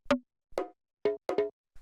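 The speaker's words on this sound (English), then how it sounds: "So it's just these little bongo samples." Little bongo samples triggered from a drum rack in a minimal house production, five short dry hand-drum hits in a loose, syncopated pattern, clean and close with nothing else playing.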